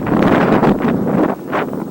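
Strong gusts buffet a microphone outdoors on a windy day where an RC plane is about to fly, a loud rumbling roar that swells and eases in uneven waves with no talking.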